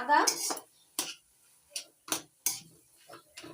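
Fresh ginger is crushed in a kitchen while cooking fish-head greens: a handful of separate sharp knocks and clinks of metal and crockery, close and fairly loud, with brief quiet gaps between them.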